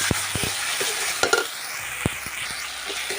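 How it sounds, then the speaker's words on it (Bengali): Onions frying in a pan for dhaba-style chicken curry, a steady sizzle broken by sharp scrapes and clacks of a spatula stirring at irregular intervals. "তো দেখো পেঁয়াজটা আমার ভাজা ভাজা হয়ে গেছে।"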